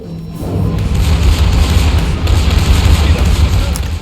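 The secondary guns of a German tier 11 battleship fire in World of Warships, making a loud, continuous rumble of booming gunfire that lasts for several seconds.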